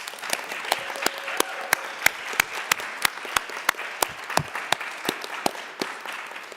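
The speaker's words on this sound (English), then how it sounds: "give our new graduates a big round of applause for their great accomplishment." Moderate applause at an international student graduation celebration for new graduates, a modest crowd clapping in a fairly sparse, distinct patter of individual claps that continues steadily without talk.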